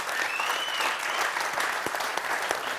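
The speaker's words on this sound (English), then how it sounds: "Let's give Fred a great round of applause" An audience gives a hearty round of applause at a gathering, dense and sustained clapping heard close and loud, with a faint whistle near the start and a few cheers mixed in.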